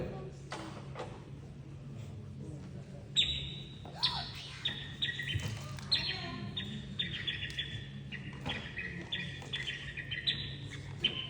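A performer at a Tamil association event in North Carolina imitates small birds with high, whistled chirps in quick repeated bursts, over a steady low hum and occasional knocks.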